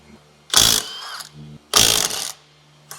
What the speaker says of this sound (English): what I'm gonna do is take my Milwaukee Impact, start loosening up the lug nuts